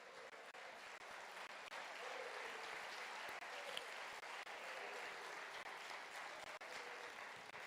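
A church congregation applauds in praise of Jesus during a sermon, a steady broad wash of clapping that runs unbroken for several seconds, heard at a distance and fairly faint.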